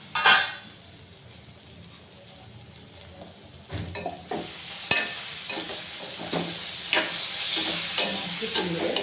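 Organic vegetables, including eggplant, stirred while cooking in a pan, with a bright sizzle rising after an initial clatter and repeated scraping, knocking stirs of the utensil against the pan, close and fairly loud, with no voices.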